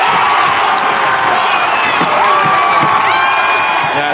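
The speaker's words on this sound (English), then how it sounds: "Let's give a little cheer." A small group cheers and whoops loudly, a dense stretch of mixed shouting voices lasting several seconds.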